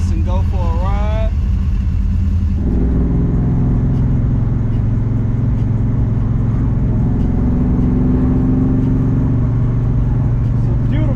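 A 1993 Ford Mustang Foxbody with a 5.0 engine cruises with the top down, its steady low engine rumble and road noise running throughout, briefly rising as it accelerates, with a voice heard over it at the start.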